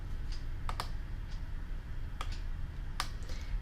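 A computer keyboard is tapped while a NetBeans form is edited, giving a few sparse, crisp clicks spaced irregularly over a low constant background hum.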